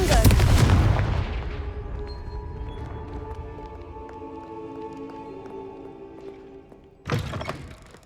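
Confringo fire spell blast in Hogwarts Legacy, a heavy booming impact that rolls into a long fading rumble with lingering tonal magical ringing, then a second sharp burst near the end.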